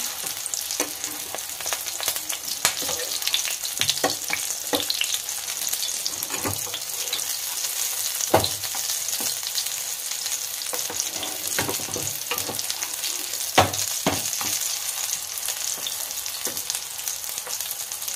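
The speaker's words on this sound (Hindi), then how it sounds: "दोनों साइड से अच्छी तरह से क्रिस्पी फ्राई होने तक इसे फ्राई कर लेंगे" Chicken shami kababs shallow-frying in a pan, a continuous close crackling sizzle with scattered sharp pops and occasional utensil clicks throughout, no talking.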